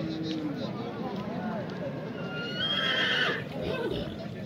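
A horse whinnies loudly at a busy horse and livestock market, the neigh rising briefly over constant crowd chatter and nearby voices.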